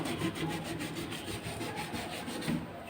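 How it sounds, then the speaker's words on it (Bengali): A Scotch-Brite scouring pad with soap scrubs a stain on a refrigerator in quick back-and-forth strokes, making a rhythmic, close, fairly quiet rasping scrub that repeats steadily. "একটু স্কচ ব্রাইট দিয়ে ঘষে নিই।"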